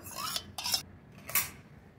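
Spoonfuls of yogurt scooped into a bowl for a prawn tandoori marinade, a metal spoon giving three short, quiet scraping clinks against the dish with faint pauses between.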